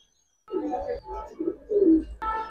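Giribaz pigeons of the palla liner and coloring lines, including single females, give a few close, soft cooing calls in short separate bursts.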